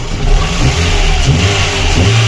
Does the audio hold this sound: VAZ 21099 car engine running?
yes